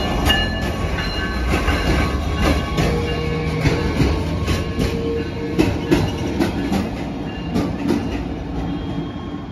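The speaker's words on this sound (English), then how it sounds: "That's right, that is a Stadler GTW train." A Stadler GTW railcar on New Jersey Transit's River Line rolls past close by, a steady rumbling roar with rhythmic clickety-clack wheel beats and faint metallic squeal throughout, no talking.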